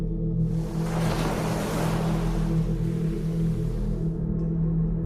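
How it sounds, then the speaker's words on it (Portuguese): Sea waves rumble from afar at a beach, a steady low wash of surf under a soft airy hiss that stays fairly even throughout, with no voices. "tentando escutar de longe o barulho do mar"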